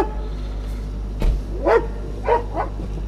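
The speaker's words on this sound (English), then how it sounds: "We have got the security dog unit turning up." A security dog unit's dog barks a few times at a distance on a misty night outdoors, short separate yips and barks over a steady low hum.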